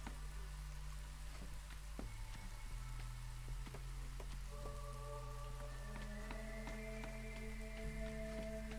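Drizzle in the video game Against the Storm falls as a soft, constant patter of rain under a low steady hum and soft melodic game tones.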